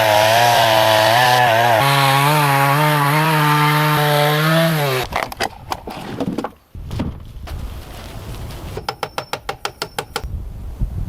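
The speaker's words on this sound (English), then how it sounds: "uses a chainsaw to trim the wood to the correct size" A chainsaw cuts timber for a log cabin in the forest, opening with a long steady loud engine whine, then breaking into rough bursts of cutting and a rapid series of sharp clattering strokes.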